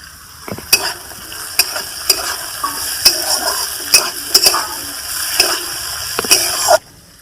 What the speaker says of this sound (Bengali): এবার পেঁয়াজ চিনটা দিচ্ছি এবার টমেটোগুলো দিয়ে দিচ্ছি